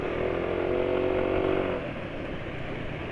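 A motorcycle engine running on Repsol DXR3 SAE 40 oil, a steady close mechanical drone with a faint rattle that drops slightly in level partway through, no talking.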